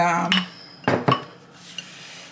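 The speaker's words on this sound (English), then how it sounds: "you're gonna just mix it around with a spatula or whatever it is I'm using here" A spatula mixing cornbread batter in a bowl, with a few loud, close clinks and knocks of utensil against the bowl separated by quieter scraping.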